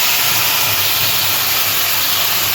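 Mustard, poppy seed and green chili paste added to hot tempered oil gives a loud, steady broadband sizzle that holds for a couple of seconds, with no talk.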